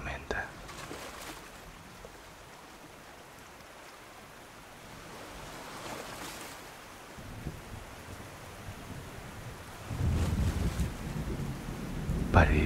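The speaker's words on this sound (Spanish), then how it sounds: "Luego, comienza a llover. Hay una gran tormenta." Steady rain hisses throughout with low thunder rumbling, swelling louder near the end, while a soft whispery voice murmurs at times.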